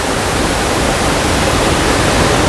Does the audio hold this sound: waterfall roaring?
yes